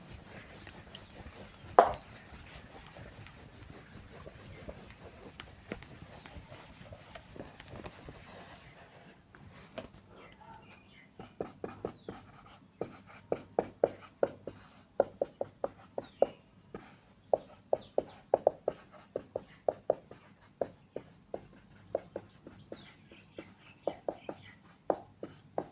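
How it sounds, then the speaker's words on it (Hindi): Chalk or marker strokes on a board: a soft rubbing of erasing first, then many short tapping writing strokes in an irregular rhythm, faint and close in a quiet room. "चलिए मैं इसे मिटाता हूँ और मैं लिखता हूँ उस सबके बारे में।"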